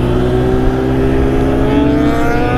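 Motorcycle engines at a rally rev loudly and steadily, a continuous roar with rising pitch toward the end, no talking.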